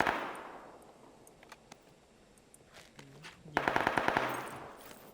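Video game PUBG gunfire: a few scattered distant shots, then a sudden loud burst of rapid automatic fire with evenly spaced cracks near the end.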